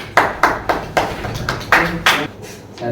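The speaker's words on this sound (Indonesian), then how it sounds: "Oke, tepuk tangan." A class applauding together: brisk, even hand claps in a steady rhythm that rise into a louder burst partway through, nearby and without talking.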